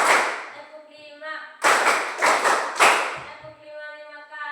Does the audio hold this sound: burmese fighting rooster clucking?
no